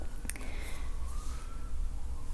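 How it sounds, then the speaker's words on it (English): A siren wails faintly in the distance outside on a misty, rainy evening, a thin rising and falling tone beneath soft room noise and a few close clicks. "There's a siren going by"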